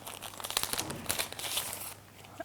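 Adhesive fabric sheet for covering a planner crinkles and rustles close up as it is handled, a dense, continuous crackle that fades near the end.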